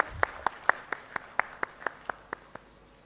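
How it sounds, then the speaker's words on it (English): About a dozen evenly spaced sharp claps, one at a time in a steady rhythm, from an audience at the opening ceremony of an industrial conclave on textile growth. The claps ring out clearly over a quiet room. "Let's have a big round of applause, ladies and gentlemen."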